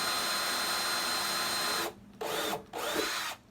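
A power drill bores holes in a plastic drawer, whining steadily at close range for a couple of seconds before stopping, then starting again in two short bursts.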